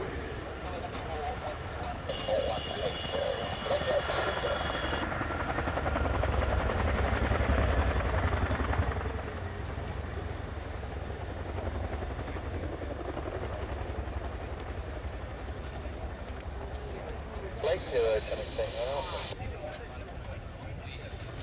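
A Royal Air Force Chinook HC.5 helicopter at an air display gives off a steady, distant rotor thrum and engine drone beneath continuous commentary from an announcer, swelling briefly midway.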